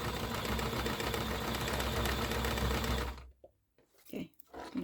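A Toyota sewing machine stitches small rucksack straps with a loud, steady mechanical whir for about three seconds, then stops and leaves quiet handling noises.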